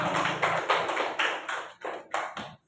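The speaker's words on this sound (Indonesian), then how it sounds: "Tepuk tangan buat Teteh." Students in a classroom applaud a presenter at an Islamic college teaching practice, a dense burst of close clapping that breaks into a few separate, ragged claps before stopping.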